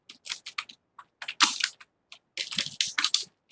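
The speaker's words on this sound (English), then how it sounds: "You can simply type here." Typing on a computer keyboard while working in MS Word, a close series of quick plastic key clicks in irregular bursts with short pauses between them.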